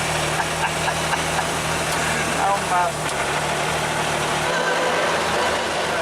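A Metro 6R4 rally car engine idles in traffic, a steady low rumble close by, while someone talks over it.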